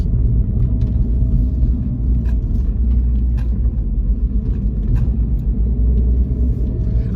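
A car sits in a parking garage, its engine giving off a steady, deep rumble that fills the space evenly for the whole stretch, with no voices over it.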